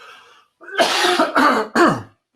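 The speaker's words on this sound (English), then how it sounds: "Let me cough for a second." Three harsh coughs in quick succession, close and loud, preceded by a faint murmur of background noise.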